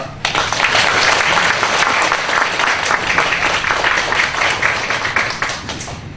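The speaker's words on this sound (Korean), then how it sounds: "우리 큰 박수로 우리 목사님을 모시도록 하겠습니다" A church congregation in Masan, Korea, applauds loudly to welcome a visiting pastor to the pulpit during Sunday worship, many hands clapping in a thick, steady burst that fades slightly near the end.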